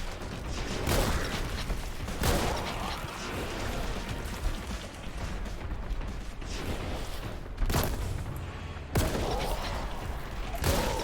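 Gunfire and weapon mechanics in Warhammer 40k: Boltgun, with heavy bursts of shooting, sharp cracks and a reload amid dense, continuous combat noise.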